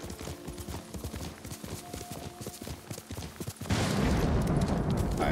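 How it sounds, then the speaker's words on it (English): A horse gallops in Ghost of Tsushima, a fast run of rhythmic hoof clip-clops close by, before a louder, noisier rush of sound takes over near the end. "All right, let's call my horse, Sora."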